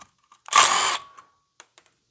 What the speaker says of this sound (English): I love my little screw gun here